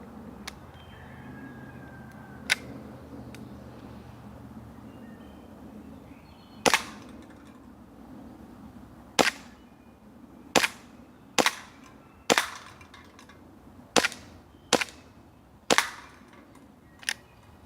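A WE M1911 airsoft gas blowback pistol fed from a Gen 5 MEU magazine fires about eight sharp, loud cracks at irregular intervals of one to two seconds, each snap standing clear over a quiet room hum.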